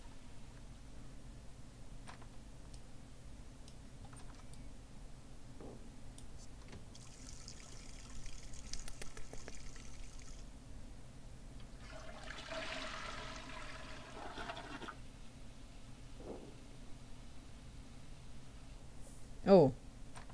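In The Sims 4, a Sim urinates and then flushes a toilet. Soft trickling is followed by a rushing swirl of water, all faint and low in level, with a brief sharp blip near the end.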